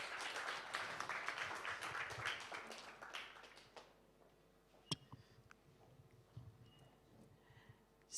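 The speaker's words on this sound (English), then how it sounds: "Another round of applause, please" An audience at a live-streamed event claps for a few seconds, a dense patter that fades out, leaving scattered faint taps and quiet room sounds.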